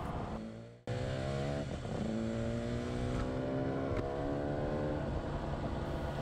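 A 1982 Yamaha RD 250 LC two-stroke motorcycle accelerates hard into its power band around 6,000 rpm, a loud, close engine whose pitch climbs steadily through a gear change, with no talk over it.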